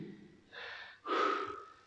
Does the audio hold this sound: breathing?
yes